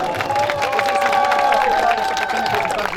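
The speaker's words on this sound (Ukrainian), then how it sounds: "Будь ласка, оплески всім організаторам і учасникам." A crowd at a charity drag-racing awards ceremony claps and cheers together, the applause steady and loud, with a whistle-like tone and babbling voices mixed in.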